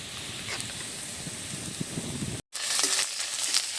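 Ginger-garlic paste sizzles with lightly fried chopped onions in hot oil, a close steady hiss with a brief dropout midway before the frying noise resumes slightly louder.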